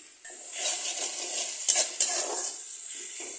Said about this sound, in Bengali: পেঁয়াজটাকে একটু এটার সাথে, মশলার সাথে, একটু বাকির সাথে একটু ভালো করে মিশিয়ে নেব।